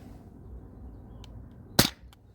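A Sabre 68 home defense launcher powered by a Crossman CO2 cartridge fires a lightweight 3.6 gram nylon ball, one sharp, close crack over a low background hum.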